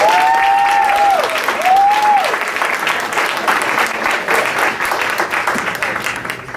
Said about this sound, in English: Can we give the band a round of applause again,